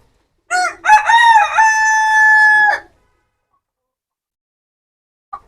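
A rooster crows once, loud and close, a long ringing cock-a-doodle-doo lasting about two seconds, followed by quiet and a brief faint cluck.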